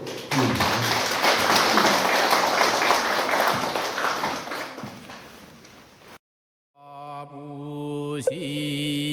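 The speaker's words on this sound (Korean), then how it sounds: "큰 박수로" A hall full of worshippers breaks into loud, sustained applause at the close of a Buddha's Birthday dharma talk at a Korean temple. It fades after several seconds, and a brief pause gives way to voices chanting.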